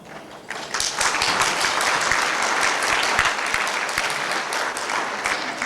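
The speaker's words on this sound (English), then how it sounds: "That really is an applause for yourselves" Audience applause at a Surrey club fundraiser, a crowd clapping steadily after a quiet start, building quickly to a full, sustained roar of hands that holds evenly and eases slightly near the end.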